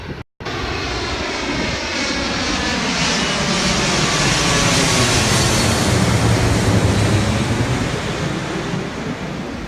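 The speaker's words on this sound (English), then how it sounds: "we got a plane going over." An airplane passes overhead with a loud, broad engine roar that swells and holds steady, after a brief cut at the start.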